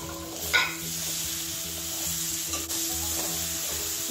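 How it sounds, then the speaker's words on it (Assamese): Chopped tomatoes added to hot oil with fried spices, sizzling loudly and steadily while being stirred for a Wallago attu fish curry, with a brief clatter of the spatula near the start. "এইখিনি মই ভালকৈ লৰাই লৈ ইয়াতে মই এয়া কাটি লোৱা বিলাহীখিনি দি দিছোঁ"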